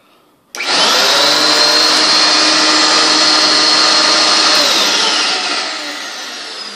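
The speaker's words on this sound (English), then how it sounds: "Now, when I recline the handle, the direct air motor is going to engage." A Simplicity Synchrony upright vacuum cleaner's direct air motor starts with a sudden jump to a loud, steady high-pitched whine, holds for several seconds, then eases slightly lower near the end.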